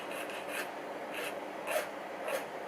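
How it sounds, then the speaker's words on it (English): A metal file rasps in short repeated strokes across part of a Hornby Pullman OO gauge model coach, close and fairly quiet, with about five distinct passes and brief pauses between them. "we've got a bit of filing down to do"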